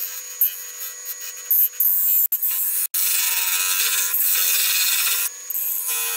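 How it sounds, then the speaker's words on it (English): High, hissing scrape of a lathe tool cutting a tenon on a small wooden lidded box, close and steady, broken by a few sharp momentary gaps. "I'm just establishing a tenon, so that'll go into the mortise"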